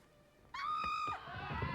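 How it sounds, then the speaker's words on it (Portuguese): A sudden scream of surprise from a film scene, one sharp, loud, high cry lasting about half a second, followed by a duller burst of noise. "esse grito de surpresa é o grito mais genuíno que você pode soltar"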